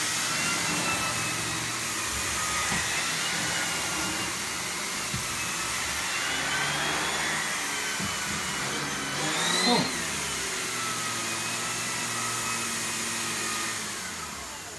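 A Miele C3 Complete vacuum cleaner fitted with a turbo brush runs steadily and loudly, its whining drone holding even while the brush passes over flooring, with a brief surge in pitch partway through.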